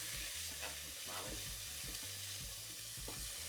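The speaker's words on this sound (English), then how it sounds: "Now add in a medium onion that's been diced. Cook for 3 to 4 minutes, stirring occasionally until the onion softens." Diced medium onion frying in oil in a saucepan while being stirred, a steady close sizzle with soft scraping strokes of the spoon, no voices.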